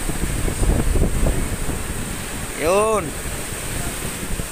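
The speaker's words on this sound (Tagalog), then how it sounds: "Oh, grabe alon, oh. Pasok na, oh. Pasok na yung alon sa barko namin." Strong typhoon waves crash against a ship at sea during Typhoon Odette, with steady wind roar throughout, a surge of breaking water midway, and a person speaking briefly.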